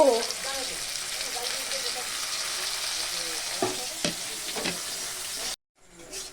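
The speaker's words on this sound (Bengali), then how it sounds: "পেঁয়াজ দিয়ে নাড়াচাড়া করে নিল, তারপর দিল টমেটো।" Onion and tomato sizzle and crackle steadily as they are stirred and fried in a pan, with occasional scraping clicks from the spoon, before the sound cuts out abruptly near the end.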